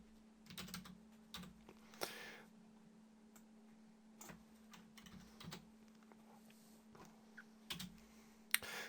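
Text being typed on a computer keyboard, quiet scattered keystroke clicks in short irregular bursts with pauses between, close by over a faint steady electrical hum.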